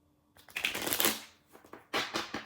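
Tarot cards are riffled and shuffled in two quick, crisp bursts with a short pause between, close up and fairly loud.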